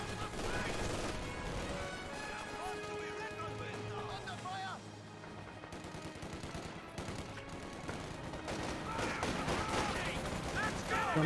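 MG42 machine gun fire in the video game Company of Heroes 2, with dense crackling bursts of gunfire and explosions in a battle soundscape, under a voice talking throughout.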